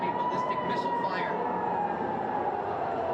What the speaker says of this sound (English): These sirens sounding across the city.